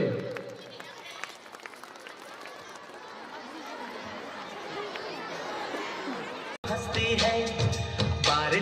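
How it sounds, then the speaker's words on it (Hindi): Audience at a school function at H. S. DAV Public School clapping for children about to perform, a steady wash of applause mixed with chatter, then a brief cut and louder, closer room noise. "एक बार जोरदार तालियां हो जाए इन प्यारे बच्चों के लिए।"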